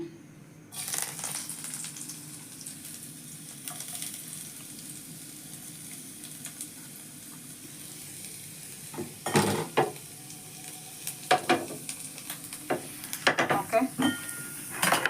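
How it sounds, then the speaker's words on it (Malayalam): Chopped ginger fries in a pan with a steady, soft sizzle. Metallic clinks and stirring clatter grow busier and louder toward the end. "ഞാനിവിടെ അരിഞ്ഞു വെച്ചിരിക്കുന്ന നമ്മുടെ ഇഞ്ചിയാണ് ഫസ്റ്റ് ചേർത്ത് കൊടുക്കുന്നത്."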